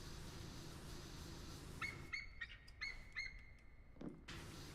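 Bird chirps in the video game Powerwash Simulator, a few short high tweets repeating from about two seconds on, moderately faint over a steady low ambient hum.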